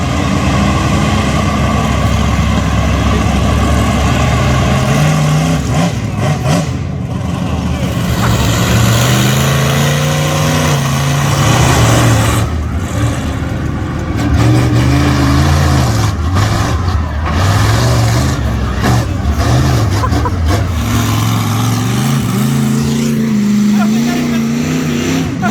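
A 2000 BHP monster truck engine rumbles loudly and continuously nearby, its deep tone rising and falling as it is revved over about 25 seconds.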